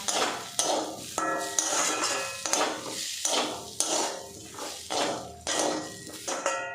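Ground spices frying in a pan with green chillies, stirred in rhythmic strokes that give repeated metallic scrapes and clinks over a low sizzle, close up.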